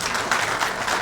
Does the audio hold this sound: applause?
yes